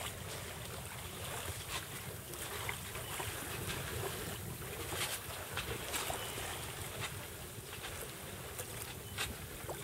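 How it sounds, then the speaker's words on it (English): A sailboat under full sail on Tampa Bay moves at only about two knots, giving a steady broadband rush of wind and water with low rumble throughout and no talk. "now what you look at is we're under full sail and we're making only about 2 knots"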